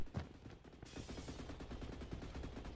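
Energy gun firing in the Roblox game Energy Assault, a fast, steady stream of rapid repeated shots running continuously and fairly quietly, with no talk.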